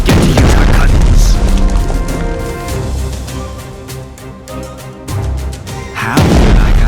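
US battleship guns fire in the naval war game Strategic Mind: The Pacific, with heavy booming blasts at the start and end and a rumbling, tonal stretch of battle noise between them, all loud and close.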